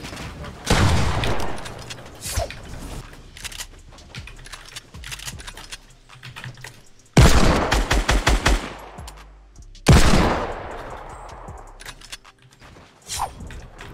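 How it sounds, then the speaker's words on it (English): Bursts of gunfire strike the player in solo Fortnite Battle Royale, loud rapid volleys in several separate clusters with quieter gaps between them, no talking over them. "I'm being shot by a different person."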